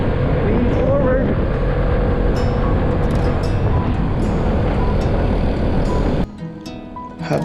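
A Vespa scooter engine drones loud and steady under heavy wind rush while throttling along a ride, dropping away near the end.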